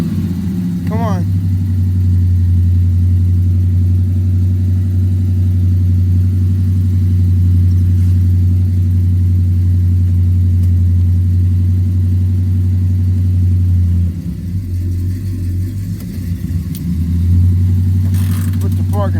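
A Chevy pickup truck engine runs after a cold start with a loud, steady low rumble held close for most of the clip, dipping briefly near the end; voices talk over it.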